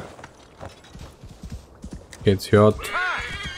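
A horse gallops in Assassin's Creed Valhalla, its hoofbeats thudding over someone talking in German, followed by a loud rising neigh near the end.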